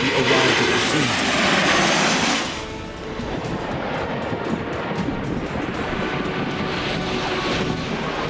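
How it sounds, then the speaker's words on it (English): A Norwegian Airlines airliner makes an emergency landing at Birmingham Airport after a hydraulic failure, a loud roaring jet engine wash that swells, dips and then settles into a broad, steady rumble with wind-like noise. "A Norwegian Airlines plane was forced to make an emergency landing at Birmingham Airport on June 16, 2018, due to a hydraulic failure."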